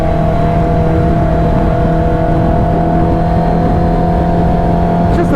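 A supercharged Kawasaki Ninja H2 motorcycle engine revving on throttle, a loud, sustained, smooth high-pitched drone heard up close with steady tonal whine and no speech.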